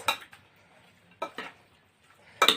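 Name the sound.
stirring chicken with spices and oil for shawarma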